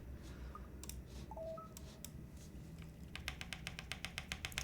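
Clicky keystrokes on a Frog TKL mechanical keyboard tap sparsely at first, then a quick run of sharp, evenly spaced clacks, close and fairly quiet.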